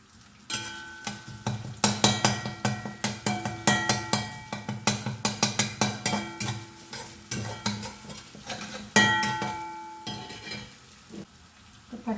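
Crushed ginger and garlic fry in hot oil with a steady sizzle, broken by repeated scraping stirs and clinks of a spoon against the pan, heard close up for the whole stretch without any voice.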